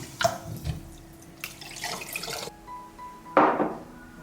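Rice is rinsed in water, with splashing, pouring and sloshing in short bursts separated by quieter pauses, close and moderately loud.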